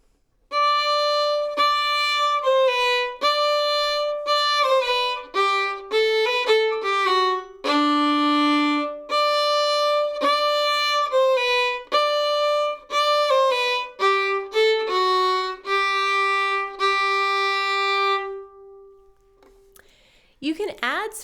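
Solo fiddle plays the A part of the old-time tune Going Down to Cairo, a bright run of quick bowed notes with clear harmonics and a few longer held tones, close and clean, with no talking.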